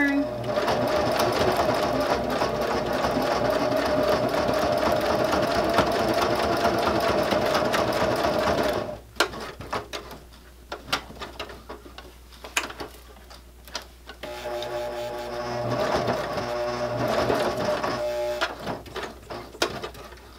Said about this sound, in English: I'm going to stitch across that and back stitch a couple of times.